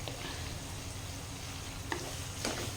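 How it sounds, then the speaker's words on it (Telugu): Chopped onion frying with salt in a pan for fish curry gives a continuous close sizzle, with a couple of brief stirring scrapes near the end and no talking. "ఇప్పుడే మనం త్వరగా వేగిపోతుంది ఉల్లిగడ్డ"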